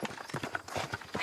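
Donkey hooves clip-clop in a quick, uneven rhythm over open ground in the Drôme countryside, a run of close, distinct hoof strikes.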